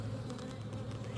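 Honey bees from a swarm being moved into a hive box hum in a dense, continuous, close buzz, steady throughout the short moment.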